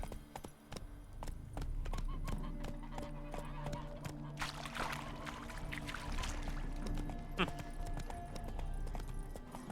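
Hooves of Roach, a horse in The Witcher 3 video game, clip-clop steadily at a gallop across the whole stretch, mixed with game ambience and louder bursts of noise near the middle.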